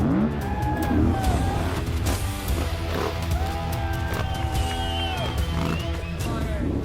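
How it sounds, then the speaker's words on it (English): A heavy twin-cylinder Yamaha Tenere 700 enduro motorcycle racing over obstacles at a hard enduro prologue, its engine revving and rising and falling in pitch loudly and continuously, with other engine noise mixed in. "In the bronze class, Paul Torres crushes the course on his twin-cylinder bike."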